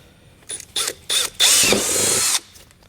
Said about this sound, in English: Let's go ahead and drill through.